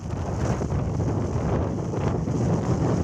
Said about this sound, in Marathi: खूप हवा आहे